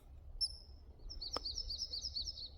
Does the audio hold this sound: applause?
no